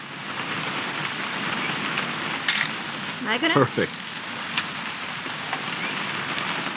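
Rain falls steadily in a video game scene, a constant hissing patter with a few brighter drips, while a couple of short spoken lines break in partway through.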